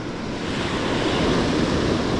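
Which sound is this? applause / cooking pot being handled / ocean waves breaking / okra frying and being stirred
ocean waves breaking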